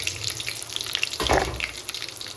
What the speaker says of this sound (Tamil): சோம்பு பொரிஞ்சிருச்சு.